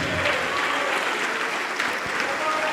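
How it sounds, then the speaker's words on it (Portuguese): Sustained applause from a church congregation praising Jesus, a thick, even wash of clapping hands from a large crowd that stays loud and steady throughout, with faint voices mixed in. "E vamos aplaudir mais ao Senhor Jesus, igreja."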